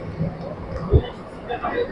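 A low, rumbling train ride heard from inside, travelling near Bardhaman towards Santiniketan, West Bengal, with soft thumps, while people talk over the noise.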